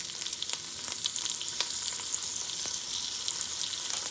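Sausage sizzles in about a tablespoon of hot oil in a porcelain pot, a steady, close, bright frying hiss with frequent small crackles and pops throughout and no talking.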